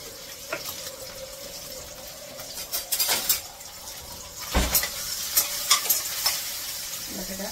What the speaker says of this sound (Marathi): तेल घातले आणि बटाटा परतून घेते.